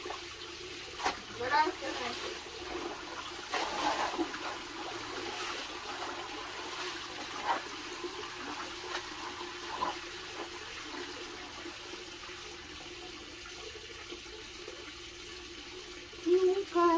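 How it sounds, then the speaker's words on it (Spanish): Clothes being washed by hand in plenty of running water, a faint steady trickle and splash with occasional sloshing bursts, low in level, a voice speaking at times and louder splashing at the end. "a mí siempre me ha gustado lavar así con mucha agua"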